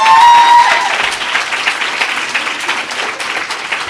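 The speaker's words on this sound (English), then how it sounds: "please, a round of applause for Zama." Audience applause at an event, a dense, sustained wash of clapping that starts loud and eases slightly while continuing steadily throughout.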